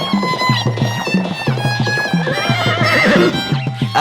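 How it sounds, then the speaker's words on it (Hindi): A live horse approaches, neighing and whinnying loudly and close over a steady rhythmic clip-clop of hooves. "उस तरफ से तो एक जिंदा घोड़ा आ रहा है।"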